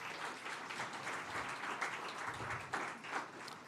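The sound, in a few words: audience applause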